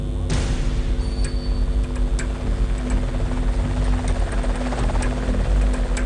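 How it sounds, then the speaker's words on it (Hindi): A Cheetah military helicopter lifting off from a Siachen base camp toward a mountain pass, its loud continuous rotor thrum and turbine whine filling the whole stretch with steady, close intensity. "सुबह 5:30 बजे पहले चीता हेलीकॉप्टर ने कैप्टन संजय कुलकर्णी और एक जवान को लेकर बेस कैंप से बिलाफोन दर्रे के लिए उड़ान भरी।"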